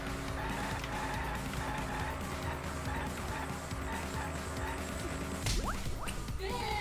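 A car skids in the Danganronpa V3 car minigame, with a sustained engine drone and tire noise throughout, then a sharp squeal and impact toward the end.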